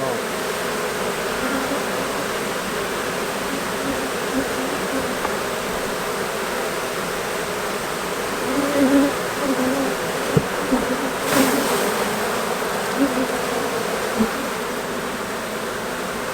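Honeybees hum in a steady dense drone around a hive frame where new bees are hatching, close and continuous, with a few soft knocks and handling noises partway through.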